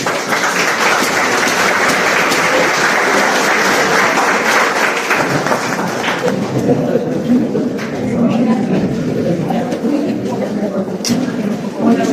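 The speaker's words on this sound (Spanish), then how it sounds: "Entonces, un aplauso para los compañeros." Classroom applause for fellow students in a university agrarian and environmental law class, a dense wash of clapping that rises loud and then thins, with talk mixed in under it.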